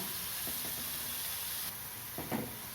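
Sliced onions and crushed garlic cloves sauté quietly in a pan for a potato masala fry, a soft steady sizzle with a few faint stirring knocks.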